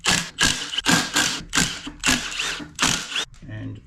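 Ratchet wrench working on 14 mm flywheel bolts of a 1952 Volkswagen barn door ambulance, giving six loud bursts of rapid clicking in a steady rhythm, close by, followed by a brief quieter rattle.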